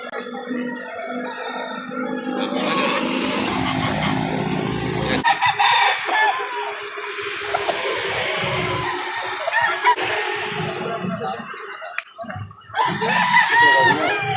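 Roosters crow and chickens cluck at a fowl market in Victoria, a loud crow standing out among scattered clucks, with people bargaining nearby.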